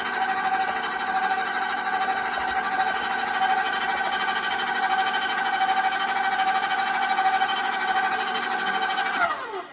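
An electric mixer beats an egg into whole wheat dark chocolate chip, sesame and oat cookie batter, giving a loud, steady motorized whir that runs unbroken for nearly ten seconds before winding down at the end.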